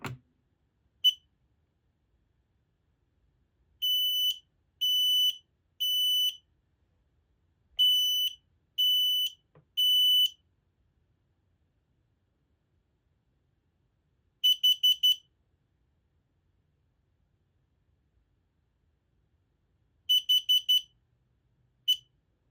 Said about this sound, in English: All right, let's go ahead and give this thing a test.